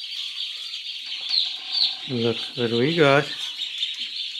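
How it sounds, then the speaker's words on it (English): Baby chicks and ducklings in a farm brooder keep up a dense, high chorus of peeping and chirping throughout, with someone briefly speaking close by over it. "Ducks and baby chicks."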